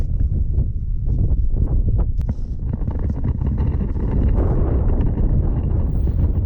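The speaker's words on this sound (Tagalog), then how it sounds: "Sa sobrang lakas nga ng hangin ay hindi nyo narinig ang aking audio." Loud, rough wind on Mount Fuji buffeting the microphone, a constant low roar with gusty rumbles and occasional thumps.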